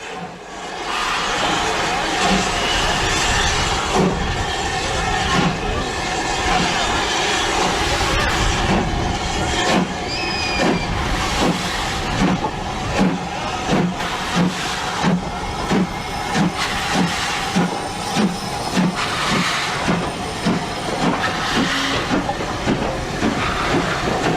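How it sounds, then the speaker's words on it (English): A black steam locomotive on a heritage line pulls an Easter special away, its steady hiss and rumble joined by rhythmic chuffing beats that grow regular and distinct, loud and fairly close, with no talk. "see Douglas the Black Engine make a quick getaway with an Easter special to Alton"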